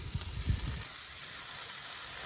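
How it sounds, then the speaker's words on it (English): Beef tallow injected chicken wings sizzle on an Oklahoma Joe's Judge grill, a close, steady crackling hiss with a few soft pops at the start, heard alone. "Pick up that sound of the sizzle."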